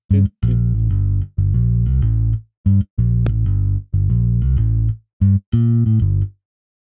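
Modo Bass 2, a virtual bass instrument, plays its Aluminum Funk preset: a loud, punchy, funky bass line of short and sustained notes in a syncopated rhythm, heard alone and up close.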